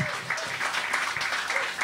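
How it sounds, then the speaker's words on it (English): A short burst of audience applause at a comedy show, dense clapping at moderate volume lasting under two seconds, with faint voices mixed in. "Give yourself a big round of applause."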